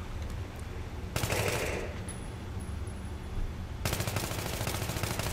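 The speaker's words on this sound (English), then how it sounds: "Let's go ahead and hipfire with this weapon." Automatic AEK-971 rifle fire from the hip in Battlefield 3 gameplay comes in two long, dense bursts of rapid, loud shots, with a short gap between them.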